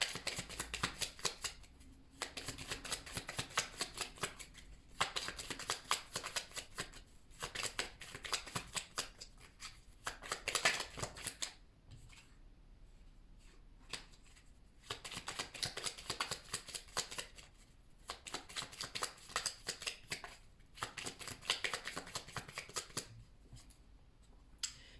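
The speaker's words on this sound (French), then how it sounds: "J'ai beaucoup de cartes." A deck of tarot cards being shuffled by hand in repeated riffling bursts, close and fairly loud, with brief pauses between passes and no talking.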